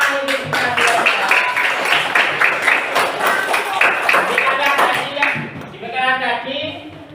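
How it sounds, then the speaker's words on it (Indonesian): Hands clapping in group applause in a classroom after a children's cheering song, a dense burst of claps under and alongside lively voices, fading out near the end. "Ya, tepuk tangan untuk kita semua."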